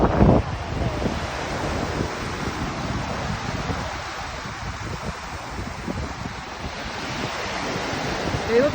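Rough surf crashes onto the shore at low tide in gale-force wind, a constant heavy roar of breaking waves with strong wind buffeting the microphone, loud and continuous.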